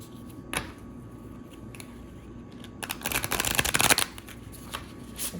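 Oracle cards riffle and flutter in a quick burst after a few soft taps, close by, followed by light handling sounds.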